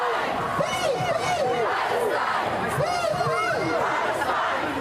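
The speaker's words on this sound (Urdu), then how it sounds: "برسلز کے شہریوں نے بھی فلسطین کی آزادی کے نعرے لگائے." Protesters in Brussels chant slogans for Palestinian freedom, a loud crowd of many voices rising and falling in rhythmic shouted phrases that carry on without pause.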